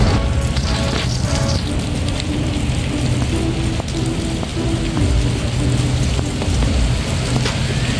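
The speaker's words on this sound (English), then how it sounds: "It is pouring down raining with lightning" Heavy rain pours down during a lightning storm at an abandoned factory in Louisville, a loud, dense, continuous hiss of drops hitting surfaces with occasional low rumbles.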